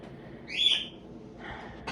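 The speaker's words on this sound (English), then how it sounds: "And the bird squawking." A pet bird lets out a short, shrill whistling squawk, close and fairly loud, followed by a fainter second call a moment later in a quiet indoor room.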